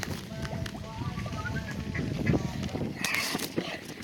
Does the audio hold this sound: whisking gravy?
no